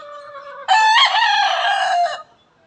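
A Milsim Black broodcock rooster crows once, close and loud, a single drawn-out call of about a second and a half with no other sounds around it.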